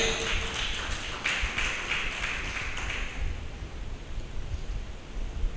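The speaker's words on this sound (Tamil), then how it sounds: "கரங்களை தட்டுங்க." A church congregation claps hands during a Tamil Christian sermon, a dense rustling patter of many claps that fills the room for about three seconds and then fades into diffuse crowd noise.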